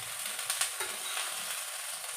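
Dabeli buns toasting in butter on a flat pan give a quiet, even sizzle with a few faint scraping touches, no voices present.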